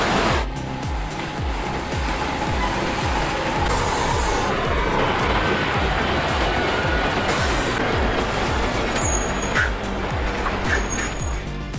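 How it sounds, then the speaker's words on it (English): A Tatra 813 off-road truck with a V12 engine roars continuously while hauling heavy logs through a forest, a dense, steady drone with a rapid pulsing low-end rhythm that never lets up. "The roar of the engine echoes among the ancient trees, as it effortlessly pulls huge logs"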